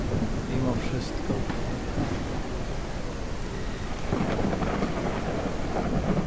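Steady rain pours down with low rolling thunder rumbling throughout in the video game Mist Survival, a moderately quiet, continuous storm with no voices.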